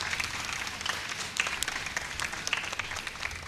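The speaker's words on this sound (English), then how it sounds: "we would like to give another powerful clap to our great young dynamic leaders of this TYW" An audience at a graduation ceremony for young women mentees applauds, continuous, fairly loud clapping with sharp individual claps standing out from the crowd.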